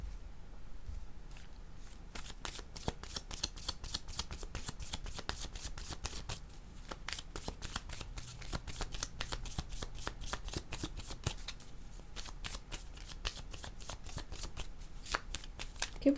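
A deck of tarot cards is shuffled close up in a steady run of quick riffling flutters and soft slaps, repeating continuously with only brief pauses, with no talk over it.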